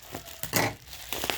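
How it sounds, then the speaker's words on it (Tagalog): A delivered parcel is opened by hand, with short bursts of crinkling and tearing plastic packaging, one louder rip in the middle and softer rustles after it, close by and with no talk. "Ito na guys. Bubuksan ko na."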